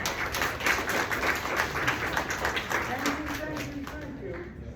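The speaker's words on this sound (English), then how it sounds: "You folks are great, you clapped right on cue" An audience claps through a live comedy show, a dense patter of hands running steadily, with a voice speaking over the applause.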